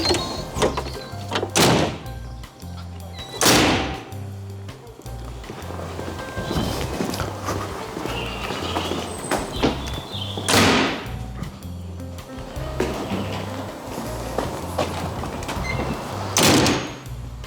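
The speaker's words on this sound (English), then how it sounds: "That's all the doors shut." Heavy carriage doors of a model railway locomotive sound project slam shut one after another, four loud bangs spaced several seconds apart over a low engine rumble.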